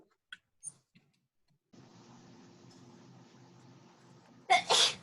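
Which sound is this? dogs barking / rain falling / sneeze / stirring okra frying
sneeze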